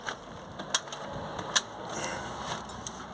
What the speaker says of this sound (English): Now what we can do actually is jack up the jacks holding the bottom arm.